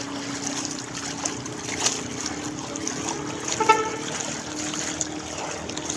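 Steady wash of knee-deep floodwater with scattered splashes and trickles, fairly close, continuous with a few louder surges.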